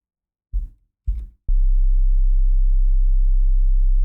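Two short low bursts, then a steady pure low sine-wave tone from the Serum 2 synthesizer begins and holds evenly to the end, alone with no voices.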